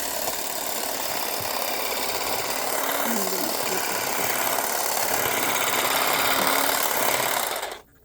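A grass cutter machine trims overgrown grass along a concrete driveway in a Hawaii yard, a steady droning engine hum running continuously at moderate distance before cutting off at the end.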